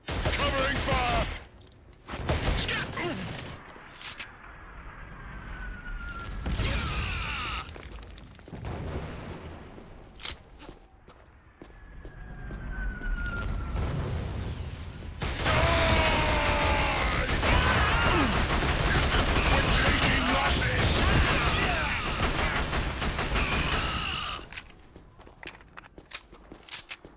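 Gunfire in the Killzone video game on PS3, with bursts of automatic fire and sharp shots mixed with footsteps and crashes, loud and close, and in-game voices talking during the action.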